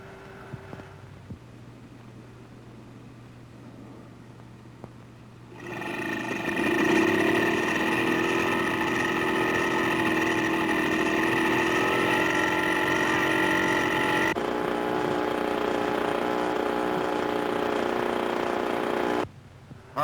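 A portable generator supplying external power to start a B-17 bomber's engines runs steadily with a loud, constant mechanical drone and hum that starts a few seconds in and holds at an even level.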